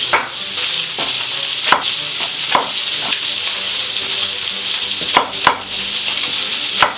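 A pork roast sizzles steadily in a pan, a bright continuous frying hiss broken by several sharp clatters as it is turned and handled.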